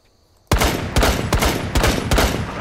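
Cluster charge blasts in Rainbow Six Siege go off in a rapid string of five loud, sharp bangs at regular intervals, each detonation close and punchy, following a brief quiet moment.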